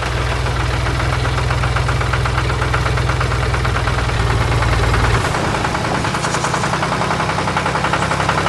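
A blue tractor engine runs in an animated farm cartoon with a loud, steady knocking chug that shifts pitch and drops partway through.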